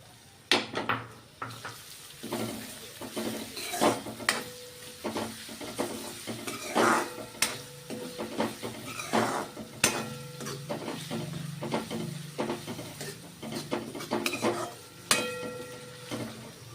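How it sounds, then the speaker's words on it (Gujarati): Onions frying in a pan for a Gujarati tuvar dal and rice meal, with a steady background sizzle broken by frequent sharp clinks and scrapes of a spoon stirring against the pan, close and fairly quiet, with no talk. "ડુંગળીને આપણે ગોલ્ડન બ્રાઉન કરવાની છે"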